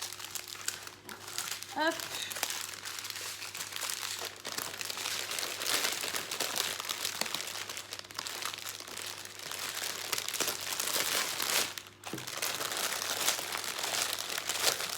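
Close, continuous crinkling of plastic packaging while diamond painting diamonds are put away, with brief pauses and a faint voice now and then.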